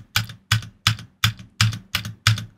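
The space bar of a cheap 80-real mechanical keyboard is pressed repeatedly, giving seven loud, sharp, clacky strikes at an even rhythm, each with a quick rattling release, close up and alone.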